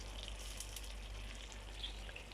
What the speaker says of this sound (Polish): Pomidorki nam się tutaj tak fajnie smażą.